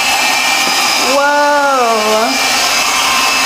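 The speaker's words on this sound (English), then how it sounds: "I think it knows like if something is gonna be too big, so it doesn't vacuum up that stuff" A robot vacuum cleaner runs indoors as a steady, loud broadband whir, with a rising and falling whine sweeping through the middle of the clip and a brief exclamation from a person over it.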